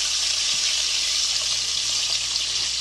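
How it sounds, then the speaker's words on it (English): Chicken wings frying in hot oil, a loud, continuous hiss and crackle that stays even throughout with no voices over it. "These boys are fried real good."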